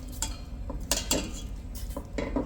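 A metal spoon clinks and scrapes against a pot while glazing pears in hot red wine poaching liquid, several sharp separate taps and scrapes at an uneven rhythm, quiet and close, with no talk.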